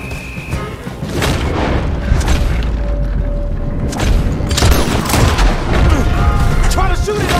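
Gunfire in the video game Red Dead Redemption 2, loud booming shots and a heavy rumble layered over a busy action scene, with a player's voice and game voices speaking over it.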